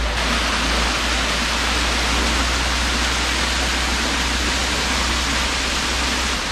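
Tamarin Falls at Seven Cascades in Mauritius, a constant loud broadband roar of falling water heard close up, steady and unbroken with no voices.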